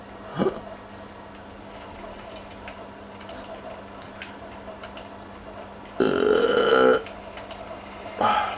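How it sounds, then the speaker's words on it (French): Burps from a character in Red Dead Redemption 2, three short bursts: a quick one near the start, a longer belch lasting about a second in the middle, and a brief one at the end, over quiet game ambience. "J'arrête pas de roter même quand je mange pas."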